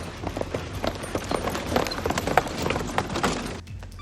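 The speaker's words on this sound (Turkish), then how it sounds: "Faytonu görün." Horse hooves from a phaeton carriage clip-clop at a steady trotting rhythm on the street, close and fairly loud, with some faint background voices, before the sound cuts off near the end.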